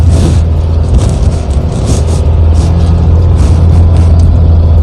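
A four-wheel drive vehicle grinds through sand on the Yorke Peninsula, a steady loud engine rumble and drone running close and unbroken throughout, with no talk.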